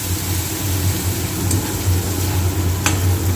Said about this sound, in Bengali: দিয়ে একটু ভালো করে ভাজা ভাজা করে নিতে হবে।